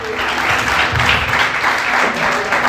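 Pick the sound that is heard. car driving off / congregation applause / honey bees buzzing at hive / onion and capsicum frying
congregation applause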